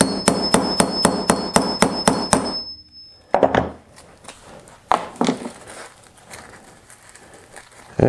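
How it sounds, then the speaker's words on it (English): A hammer strikes a grommet-setting tool to fix a grommet into a banner: a quick, even run of about nine sharp, loud blows, a pause, then a few scattered knocks. "Using our hammer."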